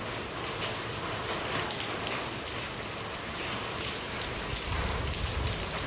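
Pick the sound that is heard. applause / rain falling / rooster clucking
rain falling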